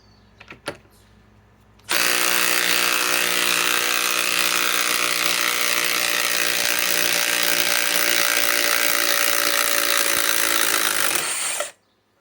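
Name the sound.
DeWalt DCF860 impact driver driving giant lag screws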